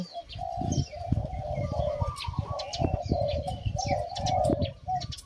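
A spotted dove coos repeatedly, close and clear, with soft chirps of other birds in the background.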